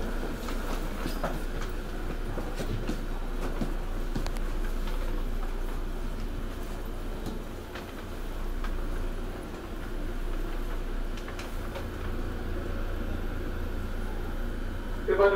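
A regular passenger train departing, a steady low rumble with rolling mechanical rattle and faint intermittent clicks building over several seconds, while a voice speaks over the noise.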